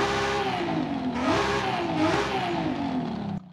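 A racing 3-litre inline-six turbo 2JZ engine in a Toyota Celica SS-I in Forza Horizon 5 revs hard, its pitch rising and falling through several sweeps, loud and alone before cutting off abruptly near the end.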